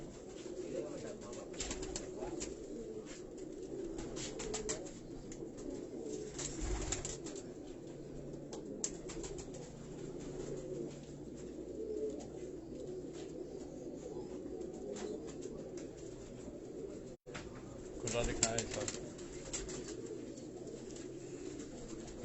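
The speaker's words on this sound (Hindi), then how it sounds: "ये तमाम जितने भी कबूतर आप दोस्तों हाजी साहब के आप देख रहे हैं, ये टेडी ब्रीड के ये कबूतर हैं।" Teddy breed pigeons on a Karachi rooftop coo softly, low rolling calls repeating over a quiet, breezy background, with a brief flutter and faint voices in the distance.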